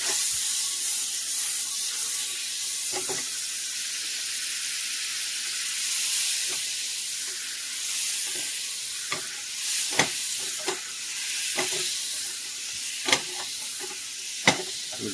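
Butter sizzles in a warm pan with a steady, fairly quiet frying hiss, broken by scattered soft clicks and scrapes of stirring.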